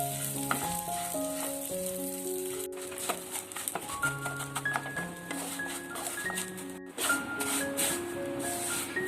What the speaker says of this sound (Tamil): இதில் நம்ம வந்து சேமியாவை சேர்த்துட்டு நம்ம வந்து வறுத்துக்கலாங்க.